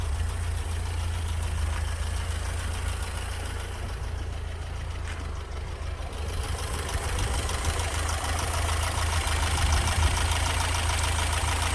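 A BMW E30 Touring's engine idles while warming up, a steady low rumble with a faint rhythmic tick, continuous and close with no talking.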